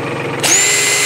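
A Bauer 20V cordless drill spins up abruptly partway through, settling into a steady high-pitched motor whine, close and loud.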